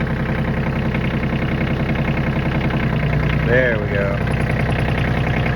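Kioti CK27 compact tractor engine running in first gear with a loud, close, steady diesel chug and a rhythmic low knock, while someone speaks briefly over it.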